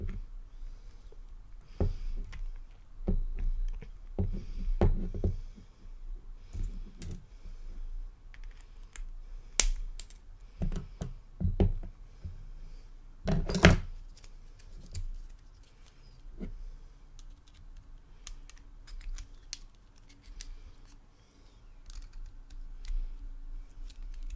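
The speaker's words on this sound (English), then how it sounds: "take my wire cutters and snip at the edges of those posts" Wire cutters snip the excess leads of a 20-gauge platinum-wire macro coil at the build-deck posts, a scattered series of small, sharp clicks spread unevenly over about twenty-four seconds, quiet and close.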